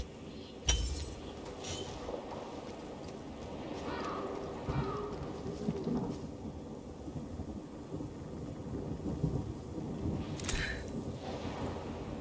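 A surge storm in the video game Synced rumbles as continuous stormy thunder, with a sharp crack near the start and another strong burst later, over a steady roar resembling rain.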